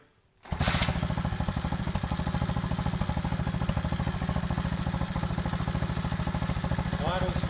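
A $100 pit bike engine idles steadily after a carburettor clean, a close, even mechanical chatter that starts abruptly after a brief quiet moment and holds constant to the end.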